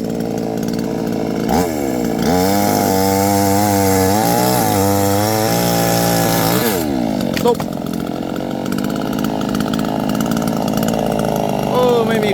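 A new chainsaw with a new chain runs loud and close, its engine pitch climbing and dropping as it revs, with a voice talking briefly over it.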